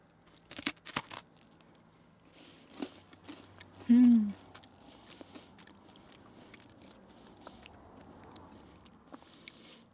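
Crunchy traditional Icelandic sweets are bitten and chewed in a few sharp, close crackling bursts, with softer chewing and handling noises between them and quiet room sound throughout.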